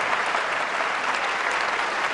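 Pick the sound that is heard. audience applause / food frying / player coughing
audience applause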